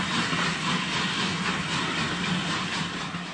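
A4 Pacific steam locomotive 60034 Lord Farringdon pulls away from Kings Cross with a semi-fast train, giving a steady, dense roar of rolling stock and engine noise that stays broadly even throughout, with no voices.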